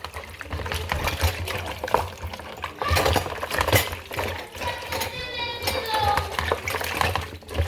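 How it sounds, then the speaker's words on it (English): Spices being rinsed under cool running water, with splashing, trickling, and clinks of a dish or utensil throughout, close and fairly loud. "I'm gonna wash it with cool water."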